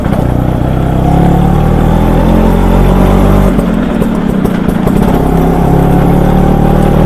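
A Vespa LML NV scooter with a disc brake runs while being ridden, its engine droning loud and steady throughout with a brief dip in tone midway, with no talk over it.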